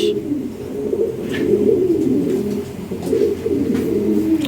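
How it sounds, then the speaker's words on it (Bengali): Pigeons of a Lahori Sirazi ring bloodline coo steadily together in a loft, a continuous low murmur of overlapping calls with no talk. "এই যে এখানে কবুতর আছে এদিকটাও আছে"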